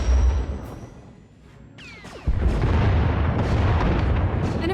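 Space battle in Star Wars: The Old Republic, a Thranta-class warship firing turbolasers and missiles: a quieter stretch of rumbling, then a sudden loud burst of booming blasts and sweeping whooshes that continues densely to the end.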